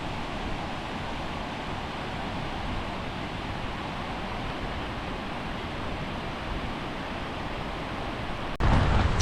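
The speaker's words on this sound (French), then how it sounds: "le torrent il ravine" A mountain torrent near Méribel in the French Alps rushes in a steady, dense roar of water that holds unchanged throughout, ending with a brief close handling bump.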